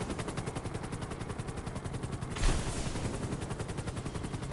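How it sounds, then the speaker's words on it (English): Aircraft flares fire in GTA 5 as a rapid, dense burst of popping, crackling discharges, loud and continuous, with one heavier thump near the middle and no voices. "And of course, you have your flares."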